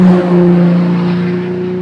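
A loud engine roars close by with a strong steady drone, the pitch holding and then easing slightly as it runs on.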